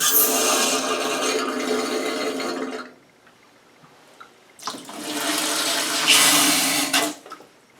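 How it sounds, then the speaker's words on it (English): Water gushes in two loud splashing bursts from a homemade 2-inch PVC hand water pump, separated by a quiet pause with faint drips and knocks. "Let's see if I can still pump some more."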